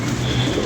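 A pigeon coos close by in a brief, low, throaty burst that holds steady over a short moment.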